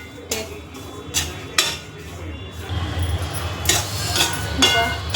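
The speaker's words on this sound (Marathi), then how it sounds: "आता आता टाकते मी या राहिलेले शेंगदाणे भाजून घेते अजून परत" Peanuts dry-roasting in a pan over a low gas flame, stirred with a utensil that scrapes and clinks against the metal in several sharp knocks over a continuous rustle.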